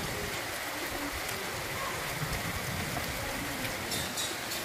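Unseasonal rain falls steadily after a spell of heat, a continuous close, even hiss of drops with no break and no voices.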